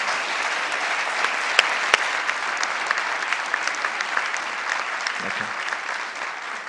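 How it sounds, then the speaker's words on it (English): An audience applauds a panel cast at the close of a moderated discussion, sustained dense clapping from a sizable crowd that continues steadily throughout. "please a round of applause for this stellar cast"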